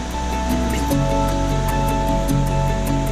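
Steady broadband rushing of a waterfall in Ciletuh Geopark, a continuous roar with constant loudness throughout and no voices.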